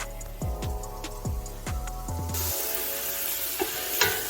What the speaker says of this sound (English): I added my tomato, and I'm just going to saute for about another minute